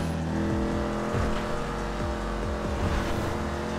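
A Ford Mustang driving flat out at top speed in GTA 5, its engine note climbing and dropping through repeated gear shifts, loud and close with no talking over it.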